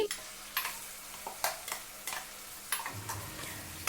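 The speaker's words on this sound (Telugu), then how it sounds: "కర్రీ పోపు వేసానండి" Oil sizzles softly in a pan as curry tempering with bay leaves cooks, while a spoon stirs and taps against the vessel in an irregular rhythm, fairly quiet and close.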